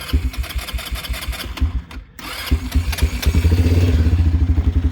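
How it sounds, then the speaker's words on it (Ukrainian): Linhai M170 engine cranking, catching and revving up, a loud chugging clatter with a brief drop out before settling into a faster, steadier running beat. "Зверніть увагу, на яких обертах починає стартувати лінхай"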